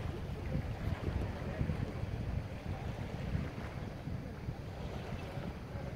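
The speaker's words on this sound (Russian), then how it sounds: "без паруса, на моторе, потому что это и с парусом, и с мотором лодочка" A motor drones low and steady on a small sail-and-motor boat cruising Lake Maggiore, Switzerland, while wind buffets the microphone and water washes along the hull.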